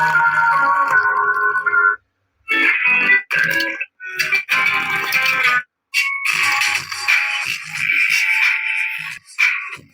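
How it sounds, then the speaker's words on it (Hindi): Music plays through a homemade mini amplifier built around a TIP41C transistor, loud and bright with a few abrupt cut-outs into silence, and no voice over it. "चलिए कोई और म्यूजिक प्ले करते हैं।"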